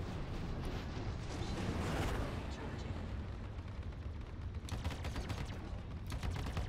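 A Cutlass Black ship in Star Citizen fires its weapons during space combat against a Vanduul swarm. The fire is loud, dense and continuous, with heavy rumbling bursts that pound on without a break.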